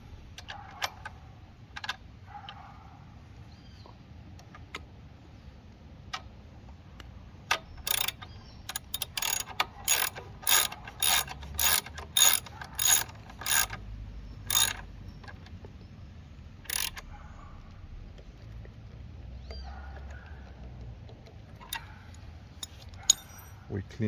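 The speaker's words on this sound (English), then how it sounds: "Then we use our ratchet." A hand ratchet tightening bolts on a Talaria Sting electric dirt bike pedal kit installation, a quick run of about a dozen sharp metallic clicks in the middle, with scattered lighter clicks around it in a quiet workshop.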